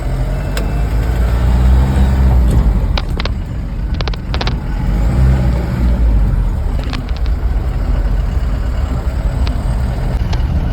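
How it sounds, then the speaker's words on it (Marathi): A loaded goods vehicle drives along a road, its engine a loud, steady rumble close by with road noise and occasional rattles throughout. "पब्लिक आपण गाडी भरून निघालेलो आहे"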